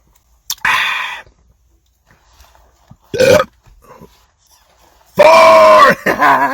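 Loud belches after drinking Mtn Dew Baja Blast from a bottle: three close, separate burps of rising force, the last long and deep, with quiet pauses between them.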